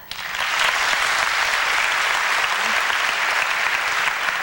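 A comedy gala crowd in a theatre applauding steadily, dense clapping that rises quickly and stays strong and even throughout.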